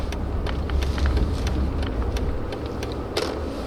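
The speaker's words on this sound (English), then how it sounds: "in this car there is a nice engine and compressor sound" Mercedes S55 L AMG Kompressor saloon driving, its supercharged engine giving a steady low drone with compressor whine, faint clicks and taps from the cabin scattered over it, no voices.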